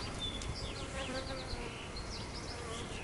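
Honey bees buzz inside a bee package, a dense, steady insect drone close to the microphone with individual high whining passes over it.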